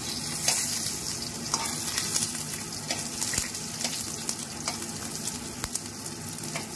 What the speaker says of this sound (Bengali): পটলগুলো আগে ভাজতে দিয়ে দিয়েছি